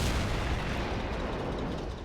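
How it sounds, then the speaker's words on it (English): A heavy tank blast in a World War II tank battle game pitting Shermans against King Tigers, a loud broad roar that rumbles on and slowly tapers over a couple of seconds with no speech. "what an explosion"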